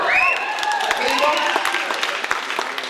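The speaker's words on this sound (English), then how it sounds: "you're clapping for thinking?" An audience at a comedy performance claps loudly and continuously, dense overlapping hand claps filling the room, while a voice speaks over the applause.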